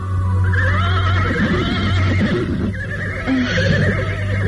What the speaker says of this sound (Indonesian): Kuda ini tinggi sekali.